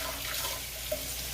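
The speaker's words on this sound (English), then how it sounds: "Then you kind of like add just a little water." Water runs from a tap or is poured into a pot while chicken is being cooked for two huskies, a steady soft splashing flow that fills the whole stretch with no talk over it.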